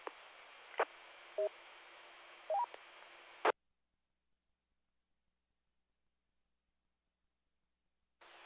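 Short steady tones over an amateur radio simplex net on 146.580, keyed in brief bursts against a hiss of radio noise, then the channel cuts to silence before noise returns briefly at the end.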